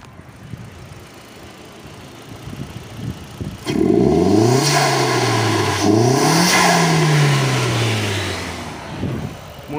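A SEAT Leon mk1 1M fitted with a TIAL blow-off valve sits quiet, then its engine revs up hard with a rising, falling sweep, a second climbing rev following, heard close and loud.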